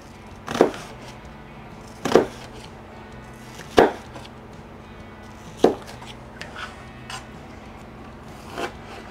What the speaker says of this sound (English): Again, I try to cut it up in as small pieces as I can.